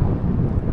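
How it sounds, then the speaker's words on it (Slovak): Gusty wind buffets the microphone during a rainy bike ride through Tokyo, a steady low rumble that stays loud and close throughout, with no talking. "Prší, fúka"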